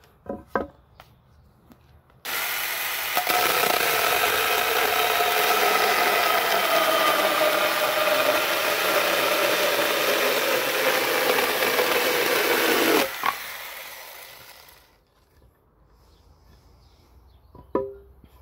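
A Denqir battery-powered mini chainsaw cuts through wood, a loud, steady high-pitched buzzing whine lasting about ten seconds that fades as the cut ends, with faint clicks and handling noise before and after.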